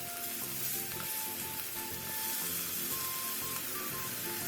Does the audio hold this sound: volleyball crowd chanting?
no